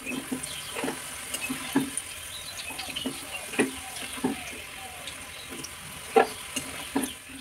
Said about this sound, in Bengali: তো আমি ওইখানে জিরা ফোড়ন দিয়ে দিলাম